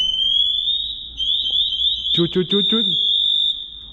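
A firefighter's air pack low-air alarm shrieks in a loud, steady high-pitched tone that warbles briefly, while a voice chatters over it before the tone cuts off.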